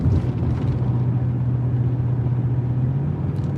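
A 2019 Ford F350 pickup truck engine gives a steady, deep, continuous rumble that stays close and loud throughout, with no voices over it.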